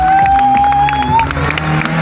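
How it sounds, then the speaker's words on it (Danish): Audience applause and cheering at a monster truck stunt show, loud crowd clapping mixed with a whistle-like tone and a voice over the noise. "Sådan, giv ham en hånd igen."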